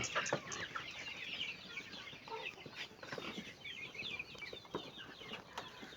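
Free-range village chickens cluck and squawk continuously in a busy flock at feeding, with occasional wing flaps, close by and moderately loud, no talking.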